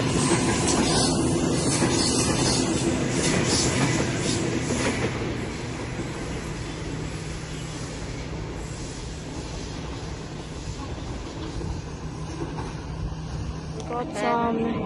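A Waratah passenger train, set A38, departs a platform at Strathfield station with a loud, continuous rumble and hiss of motors and wheels, fading slightly as it pulls away.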